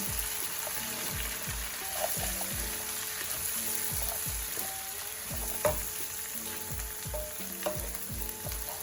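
Chopped cabbage fries with bacon in a pot, a constant close sizzle broken by a regular rhythm of spoon stirs and scrapes against the pot.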